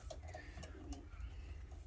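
A pigeon coos in low, soft, rolling phrases, close by, with a steady hum of background noise underneath.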